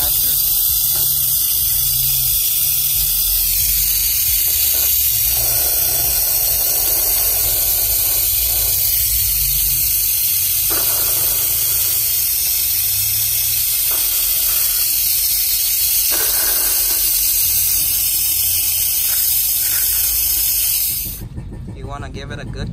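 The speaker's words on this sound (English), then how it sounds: "So you can see I got my suction vacuum going on." A suction vacuum draws oil and coolant out of an engine, giving a loud, constant hiss close by that holds steady for over twenty seconds before cutting off near the end.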